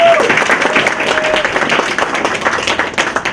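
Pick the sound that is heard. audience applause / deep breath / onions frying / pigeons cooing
audience applause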